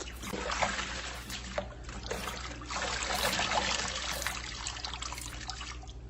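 Pre-washed greens being rinsed in water, a quiet, continuous trickle and slosh of liquid with soft splashes and no clear speech.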